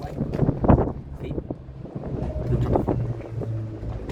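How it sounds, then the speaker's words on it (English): Strong wind buffeting a microphone on a balcony, loud rumbling gusts rising and falling continuously, with faint background sounds underneath. "This is really how windy it is."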